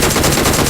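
Gunfire in the mobile battle-royale game BGMI, a loud, dense burst of rapid shots filling the whole brief moment with no pause.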